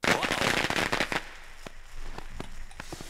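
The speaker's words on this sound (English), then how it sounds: "Noisemaker arrow, go." A noisemaker arrow goes off in the stealth game Thief: Deadly Shadows, a burst of loud rapid crackling pops that thins into scattered snaps and fades.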